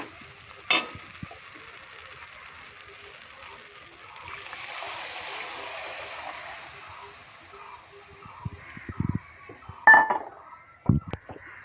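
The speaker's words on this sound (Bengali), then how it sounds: "এবার আমি এখানটায় পরিমাণ মতো জল দিয়ে দেব।" Water pours into a pan of mustard pabda fish curry, a soft hissing rush partway through, then a few clinks and scrapes of the pan and utensil.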